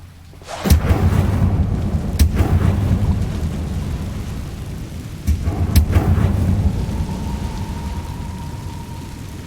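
An Incendio fire spell is cast in Hogwarts Legacy, setting off a sudden loud roaring burst with sharp crackling cracks at intervals, followed by a sustained rumble that tapers off, and a faint tone near the end.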